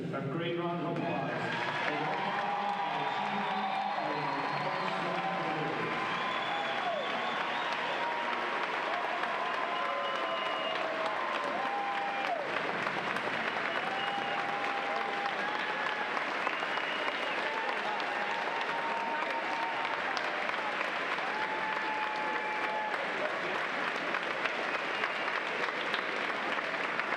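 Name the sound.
audience applause at swimming championships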